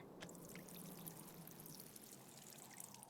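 Water pours steadily onto a plant in the card game Shadowverse, a continuous splashing stream at close range with no voices over it.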